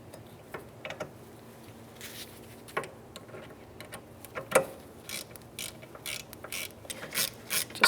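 Bolts on a rear brake caliper of a 2008–13 Mazda 3 being tightened, a series of quiet, irregular ratcheting clicks and metallic taps that come in short bursts and are heard up close against a low background hum.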